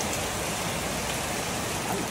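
Steady, heavy rain pours down in a continuous wash of hiss and patter, close by and loud, with no voices.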